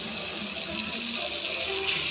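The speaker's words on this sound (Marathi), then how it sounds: "आता आपण ह्याच्यात पाणी टाकू" A steady stream of water pours continuously into a cauliflower curry, close and fairly loud, with no talking over it.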